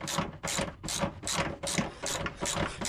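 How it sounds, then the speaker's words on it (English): A 13mm socket ratchet clicks through short bursts of strokes as it loosens bolts on a Ford Transit Custom, with a rhythmic pawl chatter at close range and no talking. "Now what you're going to want is a socket which is a 13mm"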